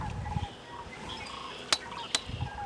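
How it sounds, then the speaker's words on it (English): A bird calls outdoors in a garden, a couple of sharp bright chirps standing out over quiet background with faint distant sounds and low rustling. "What is that bird? Do you hear that crazy bird?"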